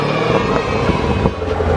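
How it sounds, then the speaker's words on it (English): A modified Corvette engine revs loudly and close by, a sustained throaty roar with rising and falling pulses throughout. "you'll be able to make your Corvette sound like this"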